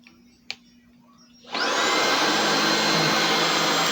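BISSELL ICONpet Turbo cordless vacuum cleaner starting up after a faint click, its motor spinning up within half a second into a loud, steady, high-pitched whine that stays constant and close.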